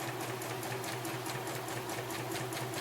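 A sewing machine runs steadily, stitching a second parallel line along the edge of fabric, a continuous close mechanical whir with a fast regular needle pulse and no voices.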